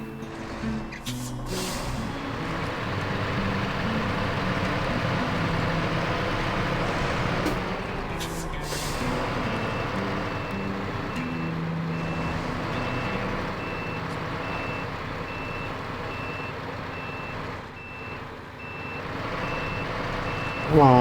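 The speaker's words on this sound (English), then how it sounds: "Let's get this truck good and stuck in the mud." A heavy off-road truck grinds through deep mud in SnowRunner's Alaska map, its engine droning steadily for about twenty seconds with repeated reversing beeps and occasional splashing and spray, heard without talk.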